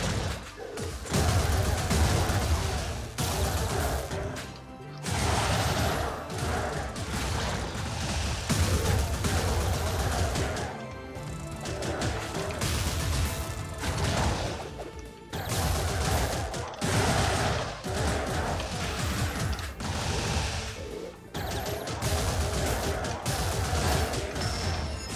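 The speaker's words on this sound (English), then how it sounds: "So many breaking sonic booms, I love it." Repeated booming bursts and crashing impacts from spells hitting in the Wizard of Legend video game, loud and dense, with continuous game music and effects running throughout.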